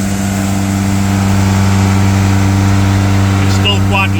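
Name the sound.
Opel Corsa engine revving as throttle increases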